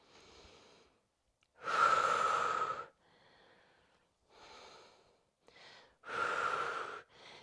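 Heavy breaths during a prenatal workout with an exercise ball come in a series of close, loud exhales, two strong long pushes of air among softer shorter breaths.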